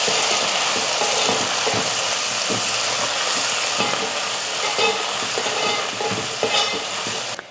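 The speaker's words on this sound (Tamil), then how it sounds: "3 தக்காளி, அதையும் நல்லா வதக்கிடலாம்." Three tomatoes sautéing in a hot pan for a garlic dried-fish kuzhambu, a steady loud sizzle with scraping, clicking stirs scattered throughout, close up and with no voices.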